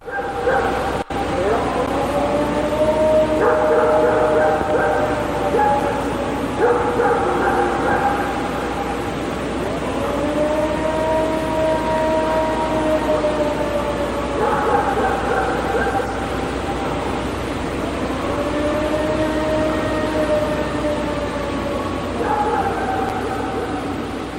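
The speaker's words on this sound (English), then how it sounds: "So those are the famous Ohio Howls recorded in 1994." Long, wavering tonal howls rise and fall over a steady noisy background, repeating in drawn-out waves; the Ohio Howls, recorded in 1994.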